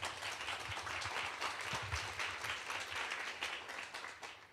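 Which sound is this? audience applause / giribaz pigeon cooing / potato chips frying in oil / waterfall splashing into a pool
audience applause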